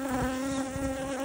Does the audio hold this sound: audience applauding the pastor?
no